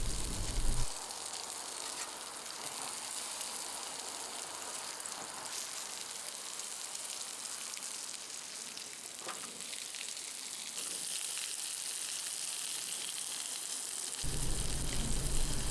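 Pork chops fry in a cast iron pan with a steady, even sizzle that keeps up for the whole stretch and grows a little louder near the end.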